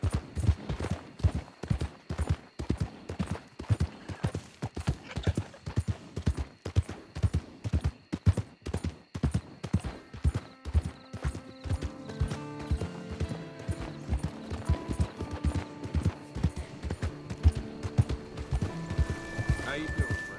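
Horse hooves clip-clopping steadily on a road in Red Dead Redemption 2, a regular close trotting rhythm throughout, with a horse whinny and musical tones joining in the later part.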